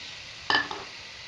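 Chopped tomato and onion hit about three-quarters of a cup of hot oil for Lahori chicken karahi, giving one short, close sizzling burst that quickly dies back to a quiet kitchen.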